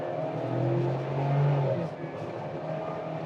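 Cabin view of a 2020 AWD Ford Explorer XLT accelerating in sport mode on a straight road, the engine drone swelling and rising in pitch at a moderate level from inside the car.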